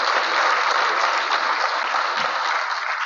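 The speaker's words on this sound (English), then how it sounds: "So big round of applause." Sustained audience applause fills a hall at a lake association's annual meeting, steady and dense throughout with no pauses, unbroken by voices.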